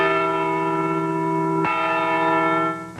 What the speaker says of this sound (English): The Iowa Liberty Bell on the Capitol grounds toll at noon, marking the birthday of Dr. King